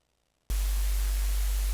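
White noise synthesized in Serum switches on abruptly after a brief silence and holds as a loud, constant, full-band hiss.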